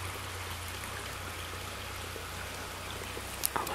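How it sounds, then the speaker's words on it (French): A small stream flows steadily nearby, a soft continuous trickle and babble of water, with a brief faint click near the end. "Il y a un petit ruisseau qui coule en arrière de moi."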